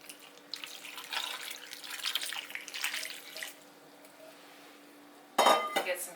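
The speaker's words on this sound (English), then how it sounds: "Put some water in it." Tap water runs steadily into a cooking pot for a few seconds, then stops, followed by a loud clatter of the pot and dishes in a home kitchen.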